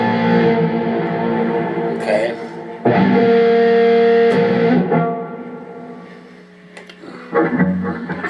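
Guitar played through a standalone effects unit with reverb added, giving sustained, washy distorted tones with a lingering tail, plus a brief spoken word near the start.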